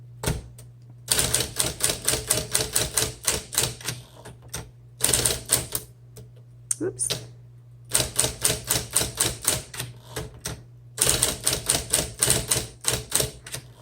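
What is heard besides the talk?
1958 Smith Corona electric typewriter typing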